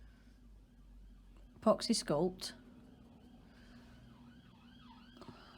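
An ambulance siren wails faintly outside, its rising and falling tone drifting in the distance after a short spoken word close by.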